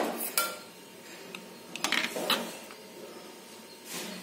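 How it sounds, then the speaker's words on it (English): A few sharp metallic clicks and clunks as a gas stove knob is turned off, scattered among soft kitchen clatter while ragi malt cooks in an earthen pot, with no talking. "and now switch off the gas"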